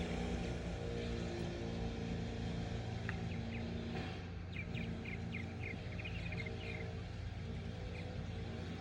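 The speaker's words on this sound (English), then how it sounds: "And then we got Pop out here on the tractor doing the driveway with the blade." A tractor engine drones steadily at middle distance while grading a dirt driveway with a blade, with birds chirping faintly in the background partway through.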